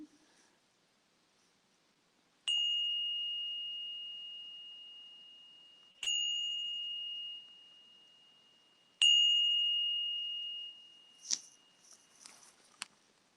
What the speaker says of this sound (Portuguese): enquanto eu faço soar o nosso sino